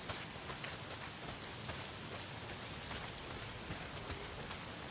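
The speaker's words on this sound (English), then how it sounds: "not if it's pissing down rain" Heavy rain pours steadily in the Days Gone video game, a dense, continuous hiss of drops hitting surfaces that fills the whole clip with no speech.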